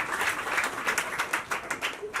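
Scattered hand clapping from a small group at a CPR and choking first aid session, uneven bursts of claps continuing for a couple of seconds, fairly close.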